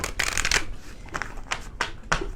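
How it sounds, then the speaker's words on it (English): Angel oracle cards are shuffled by hand in quick riffling bursts, about four crisp fluttering runs separated by short pauses, close and clear with no talking. "I shuffle the cards until I'm guided to stop"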